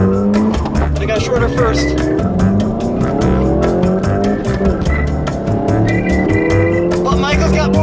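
A Volkswagen Golf GTI and a Ford Fiesta ST accelerate hard with wheel spin, their engines roaring loud and close with tires squealing throughout. People talk over the engine noise.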